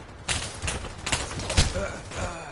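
Gunfire in the Pavlov VR shooter, a run of sharp reports and bursts spread across the moment, heard under and between excited voices of players talking.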